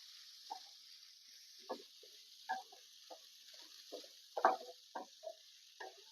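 Onion and grated coconut sautéed together in a pan over low heat, along with ginger, garlic and masala: soft, faint sizzling with a steady hiss and scattered light clicks and stirring taps, no talk.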